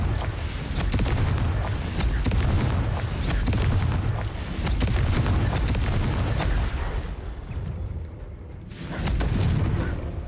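Repeated loud explosive bursts as the Confringo spell blows up balls in Hogwarts Legacy, dense booming blasts in quick succession with a brief lull near the end.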